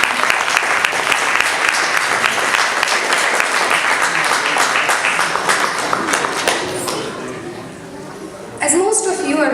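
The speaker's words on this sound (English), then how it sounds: "Can we please have a round of applause for Srimati Uma Rajasekharan?" A crowd's round of applause at a Kuchipudi classical dance event, dense and loud for most of the stretch, then thinning out before a voice starts speaking near the end.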